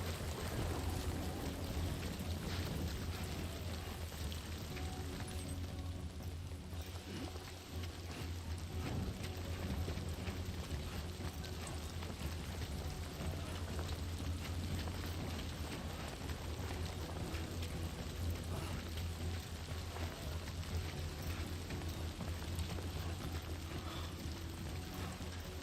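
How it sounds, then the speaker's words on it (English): Rain falling in the video game Death Stranding 2 forms a dense, unbroken wash of noise, like a steady downpour, lasting the whole stretch without pause. "It's raining."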